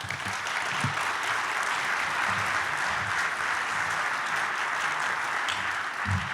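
Sustained audience applause fills a large hall at an anniversary tribute event, dense steady clapping from many hands without pause, with faint crowd murmur underneath.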